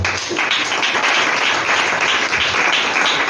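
A congregation claps and cheers together in acclaim of the Lord, a dense, continuous wash of applause that stays loud and steady throughout with no pauses.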